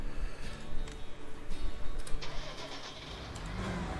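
A farm vehicle's engine cranks and catches in a farming video game, then settles into a steady mid-pitched idle with a few uneven bursts early on, close and fairly loud.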